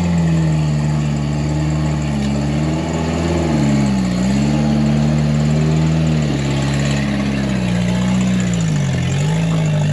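A Toyota Turbo 4Runner engine labors while rock crawling uphill, a loud close-up drone that rises and falls in pitch with throttle changes over a steady low rumble, running continuously without talk.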